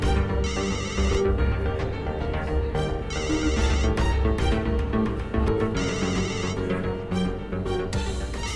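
A telephone ringtone repeats in three bursts over a steady musical background in a Hindi TV drama scene, loud and close with no talking.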